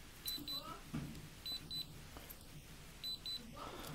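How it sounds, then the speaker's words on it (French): Pairs of short high-pitched electronic battery indicator beeps from an iPhone accessory repeat three times, quiet and close, separated by soft handling noises. "cette fois-ci, on entend deux bips"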